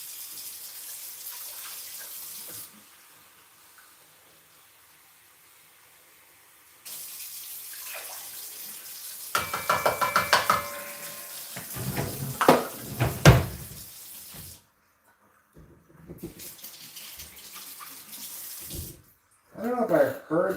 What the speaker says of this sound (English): Now, we're going to get 2 cups of water.